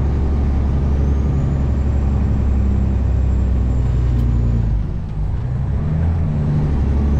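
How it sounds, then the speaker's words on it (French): A heavy truck's engine rumbles loudly and steadily while climbing a steep hill, with a brief dip around the downshift from fifth to third gear before the drone resumes. "J'ai passé de ma 5e vitesse à ma 3e directement."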